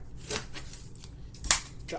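A few quick snips of scissors cutting cardboard, sharp and close, with a louder cut near the middle and quiet gaps between.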